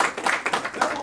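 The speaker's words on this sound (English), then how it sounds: "Let's give them a round of applause" A short burst of applause for two brothers at a religious gathering, several separate hand claps rising and falling in uneven pulses, fairly close.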